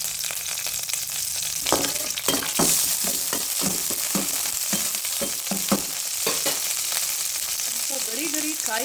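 Cashew nuts frying in hot oil in a pan, a steady close sizzle with stirring clinks and scrapes, while preparing mint rice.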